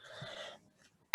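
A single sharp cough breaks out abruptly after a moment of quiet, following a faint hum in the background.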